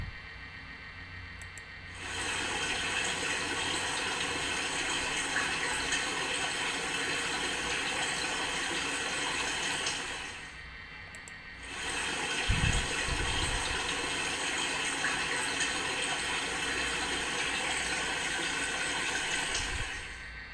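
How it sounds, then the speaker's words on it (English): Steady rushing of river water flowing, a broad continuous wash that starts, stops briefly, then resumes, with no voices. "It's a river."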